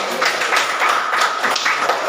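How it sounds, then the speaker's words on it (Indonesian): A class claps hands together in a steady run of quick, fairly soft claps, with a faint murmur of the room underneath. "Aduh, tepuk tangan dulu."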